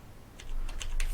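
A few quick clicks on a computer keyboard come through close and crisp, five or six keystrokes in an uneven burst over a low room hum, typed while working in 3D modelling software.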